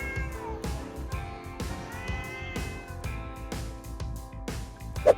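Two angry cats fight while a calm dog intervenes, with continuous yowling and meowing over a busy background of repeated thumps and tonal noise, no talking.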